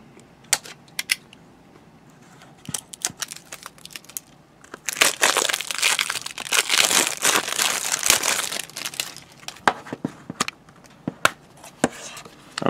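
A Detective Pikachu Nintendo 3DS game box is opened, with crinkling plastic wrap, crisp clicks and snaps of the case, and a dense burst of crumpling packaging, close and without talk.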